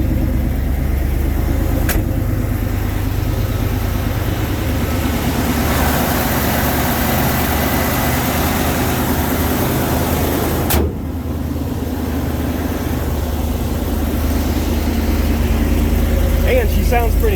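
A 1990 Ford F350 truck engine idles after a cold start, a loud continuous low rumble close by, with a brief dip near the end and faint talk in the background.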